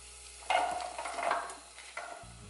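Onions sizzling and being stirred in butter in a pot for broccoli cheddar soup, a soft crackling fry with scraping stirs and a brief clatter near the end, no talking.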